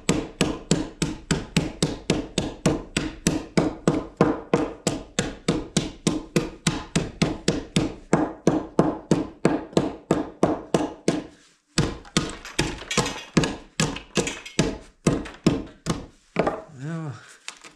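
Hammer knocking out wood from saw cuts during fence and garage building work, a long run of evenly spaced sharp thuds, then a short pause and a few looser, irregular knocks near the end.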